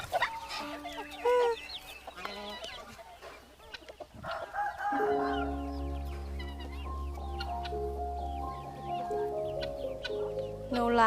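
Chickens clucking and a rooster crowing in a Thai rural setting, several birds close by; sparse calls give way to a loud, continuous crow and overlapping clucks, with some background voices.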